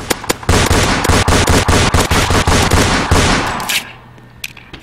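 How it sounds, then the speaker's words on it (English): Rapid gunshots in a Fortnite-style Roblox video game, a loud string of sharp cracks in an irregular fast rhythm that then thins out into a few scattered, fainter shots. Nobody speaks over them. "Someone's shooting at me."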